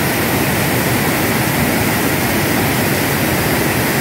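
Steady, loud roar of a river waterfall pouring into a deep pool, a dense unbroken rush of falling water filling the whole stretch with no voices.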